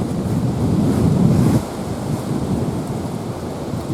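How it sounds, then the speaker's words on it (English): Wind blows hard across the microphone at a waterfall campground, a loud low roaring rush that eases somewhat partway through and then continues steady, with no voices. "Wind, beautiful wind."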